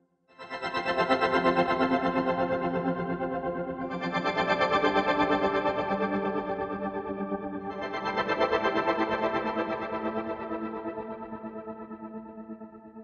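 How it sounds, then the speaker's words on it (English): Serene Pad from the Hybrid Tools NEO II library, an ambient synth pad with chorus and distortion effects, plays sustained, richly layered chords that shift every few seconds and ring steadily without any talk. "the Serene Pad is another driving, more ambient synth"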